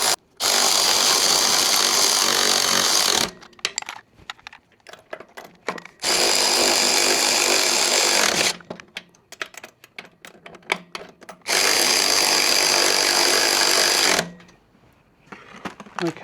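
Power tool driving bolts into the frame of a Sobowo fat-tyre electric tricycle during assembly, three loud sustained bursts of a few seconds each, separated by quieter pauses with faint handling noise.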